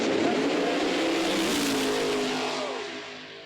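Funny car drag racing engines at Chaos in the Cornfield, a loud, roaring blast of nitro power that holds strong and then fades as the cars pull away into the distance.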